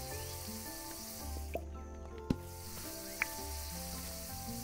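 Fruit sizzling while cooking in the video game Dinkum, a steady frying hiss over a low background music bed with a few soft clicks, gentle and continuous.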